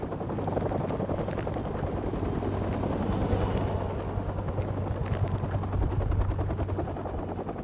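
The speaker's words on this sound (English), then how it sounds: "the helicopter's back." Helicopter in Call of Duty: Modern Warfare Remastered, a steady loud rotor thrum with a low pulsing beat that holds throughout, with no talk over it.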